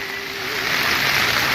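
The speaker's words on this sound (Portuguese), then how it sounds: "Muita chuva, muita água aqui nesse sentido." Heavy rain and running fresh water pour along a path toward a large pool, a dense, continuous rushing wash that grows slightly louder and fills the scene with no voices.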